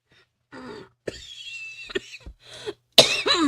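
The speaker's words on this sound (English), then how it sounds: "Allow me to entertain you with my cough." Several close, dry coughs and throat-clearing bursts come in short irregular fits, separated by brief pauses.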